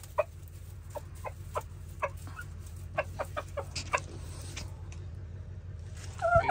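Polish chickens cluck in a quiet morning setting, a series of short, sharp, fairly close clucks spaced irregularly over a low steady hum, ending in a louder burst of calls.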